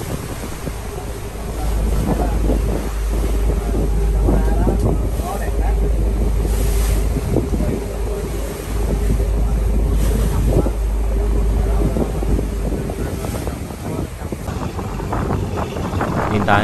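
Big waves around 1.5 to 1.8 metres high wash and slap against a boat at sea off Phu Quoc, heavy wind buffeting the microphone in a loud, continuous rumbling roar with surging swells.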